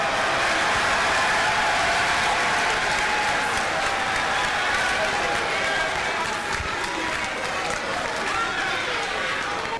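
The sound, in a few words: rapturous applause in parliament after Ghana speech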